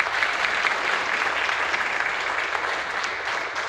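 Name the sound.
loud audience clapping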